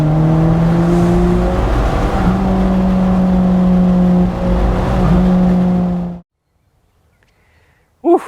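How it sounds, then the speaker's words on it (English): An Alfa Romeo 4C Spider with a turbo four-cylinder drives on back roads, its engine droning loudly and steadily with shifting pitch for about six seconds before cutting to near silence. "what an amazing experience driving this car around, especially on these back roads"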